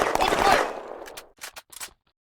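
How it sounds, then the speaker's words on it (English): Infantry gunfire rattles in a video game as a dense burst of rapid automatic fire, then trails off into a few separate shots before falling silent. "Order your infantry to keep firing until the enemy retreats."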